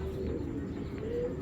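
Tournament racing pigeons coo in a loft, a continuous low murmuring drone of soft calls from several birds nearby, with no speech.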